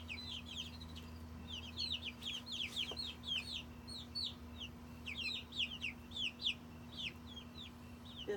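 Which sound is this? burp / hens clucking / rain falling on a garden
hens clucking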